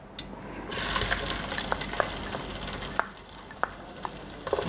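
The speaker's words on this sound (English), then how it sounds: "now I'm ready to add my locust beans" Locust beans dropped into hot palm oil set off a rising hiss and sizzle, with scattered spoon clicks against the pot as the frying settles; no speech.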